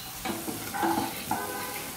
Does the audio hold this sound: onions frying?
yes